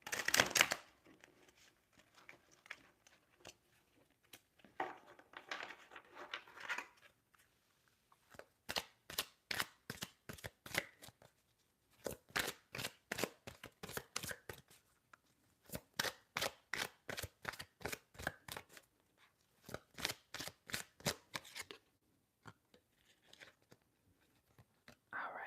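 Cards from a Prism oracle deck are shuffled and handled close to the microphone, giving bursts of rapid, crisp riffling and flicking in rhythmic runs, with soft whispering between them.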